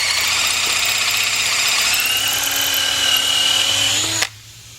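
A power drill reams a hole in a junkyard LS engine, whining loudly and steadily with a slowly rising pitch before stopping abruptly, leaving a quieter background hum.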